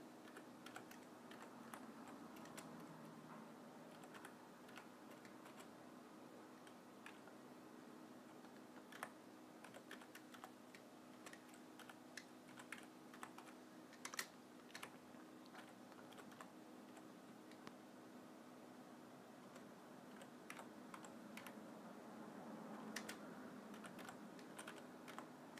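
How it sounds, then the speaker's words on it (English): Quiet, irregular clicks of keys being typed on a computer keyboard, scattered taps and short bursts over a soft steady hum, with no voices. "Just bear with me while I type this all in."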